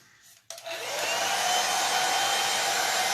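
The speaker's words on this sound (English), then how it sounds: "I'm gonna hit it with a blow dryer." A blow dryer drying acrylic paint clicks on after a moment and then runs as a loud, steady, close whoosh.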